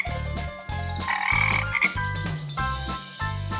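Frog croaking in a rapid, repeated rhythm of loud throaty pulses, close and continuous, with a bright tinkling chime over it partway through.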